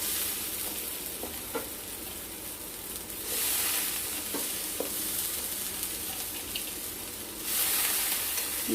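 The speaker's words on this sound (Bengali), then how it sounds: "কষবো চালের সাথে মশলাটাকে" Washed pulao rice fries with masala in a pan for an egg pulao, giving a continuous close sizzle with stirring scrapes and brief surges of hissing.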